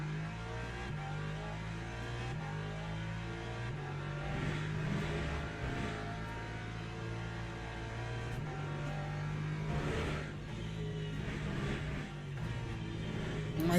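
Race car engine in Le Mans Ultimate at Interlagos, steady mid-pitched droning and revving as the car slows and accelerates through turn one, loud and continuous with no talk.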